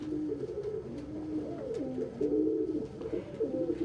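A hand-raised pet pigeon cooing continuously up close, a low warbling rolling coo that rises and falls over a faint background.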